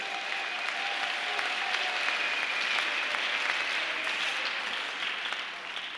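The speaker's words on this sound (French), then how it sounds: "Acclamons pour le Seigneur Jésus-Christ." A church congregation applauds during a French-language worship service, a sustained, fairly loud wash of many hands clapping that continues evenly for several seconds before easing slightly at the end.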